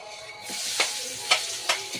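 Green onion tops tossed into hot oil in a pan: a sizzle swells as they land, then three or four quick scraping stirs against the pan, close and steady.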